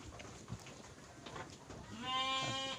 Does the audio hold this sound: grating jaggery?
no